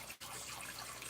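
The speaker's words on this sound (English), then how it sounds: "Let's put some water in this cup." Water pours into a cup in a steady, splashy trickle, an even wash of noise with a brief dip near the start and no talking.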